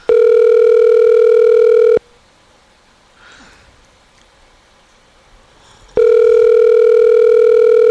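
A steady telephone tone sounds loudly for about two seconds, cuts to near silence with faint background noise, then returns just as loud for the final two seconds.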